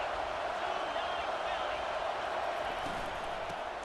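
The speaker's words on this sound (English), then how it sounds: "This crowd bringing the energy and noise early." Steady stadium crowd roar fills a college football game, a dense, continuous wash of distant cheering and murmur that holds level throughout, with faint voices mixed in.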